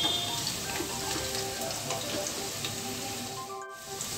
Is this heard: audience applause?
no